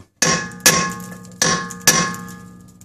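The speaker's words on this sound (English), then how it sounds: "a ball peen hammer on the head of that screw and whack it with another hammer." Metal-on-metal hammer blows: a ball peen hammer resting on the head of a rusted rear brake screw on a Honda Accord is struck with another hammer, giving four sharp ringing clangs in two close pairs, loud and near with no talk.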